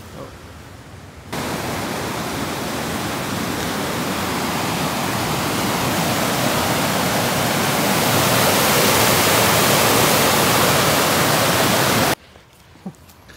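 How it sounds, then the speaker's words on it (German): Rushing water at a hydroelectric power plant in northern Norway, a loud, dense, continuous roar that starts abruptly, holds steady for about eleven seconds, then cuts off, with no voices over it. "Wasserkraftwerk."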